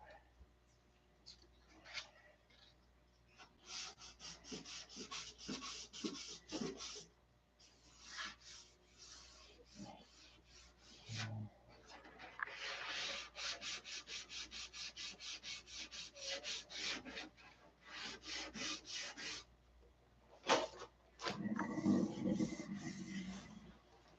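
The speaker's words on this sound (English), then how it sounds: "Got to sand all this crap off." Hand sanding of wood, likely with a sanding block, to strip off an old finish: repeated rasping strokes in bursts, fairly close, with short pauses between runs and a brief low thump near the end.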